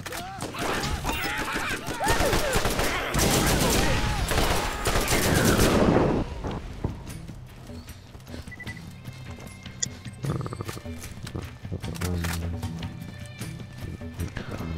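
Gunfire in the video game Borderlands: rapid overlapping shots inside a dense burst of game noise, then scattered sharp cracks against a quieter background, with some talk now and then.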